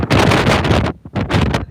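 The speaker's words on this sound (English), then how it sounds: "you can probably hear the wind" Strong cyclone winds from Cyclone Alfred roar and buffet the microphone in two loud, sustained gusts separated by a brief lull, with no talking.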